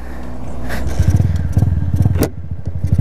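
A Honda CG 125 Fan motorcycle engine cranks and catches, settling into a close, loud, rapid putter that dips briefly before running on steadily.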